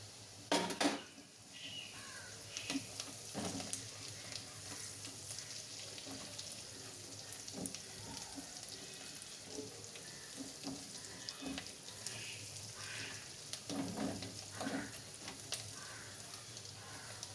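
Onion and ginger sizzle in a pan at home, a soft steady frying hiss with occasional clinks of a utensil against the pan and faint background sounds.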